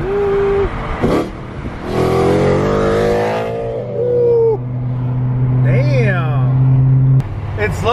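A BMW M3 fitted with a catalyst exhaust revs its engine outdoors on a snow trip, a throaty rising rev followed by a sustained drone, with people talking over parts of it.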